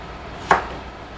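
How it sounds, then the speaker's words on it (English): A knife strikes once through vegetables on a cutting board, a single sharp close chop over faint room hiss. "give this a little chippity chop"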